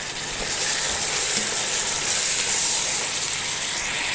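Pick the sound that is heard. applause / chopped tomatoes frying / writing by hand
chopped tomatoes frying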